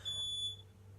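A single high-pitched electronic beep, like a smoke alarm chirp, sounds briefly over a faint low hum.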